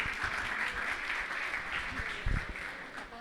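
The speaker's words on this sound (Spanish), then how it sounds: "les pido un fuerte aplauso para nuestro profesor Guillermo" Audience applause for professor Guillermo at a World Environment Day talk, a moderate, fairly distant patter of many hands heard in a room, with a couple of louder thumps near the end.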